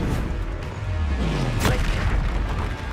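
A deep boom and crashing burst from a spell blast in the Hogwarts Legacy video game erupts midway over a low rumbling game backdrop, with no talking.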